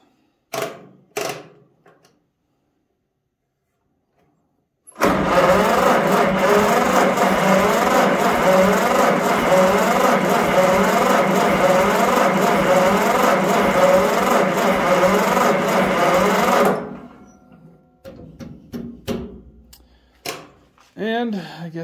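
A John Deere 40 tractor, run again after sitting for years, catches and runs for about twelve seconds, a loud steady chugging close by, with speech and clicks before and after.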